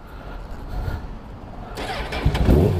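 A supermoto motorcycle engine cranks and catches near the end, rising into a rough running rumble after a stretch of low mechanical noise.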